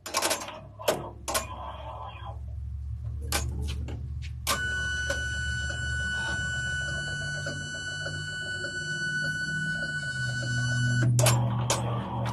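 An in-the-hoop embroidery machine stitches a bunny treat bag with a fast mechanical ticking and whirring. Brief clicks come first, then a steady run with a high whine, all close and moderately loud.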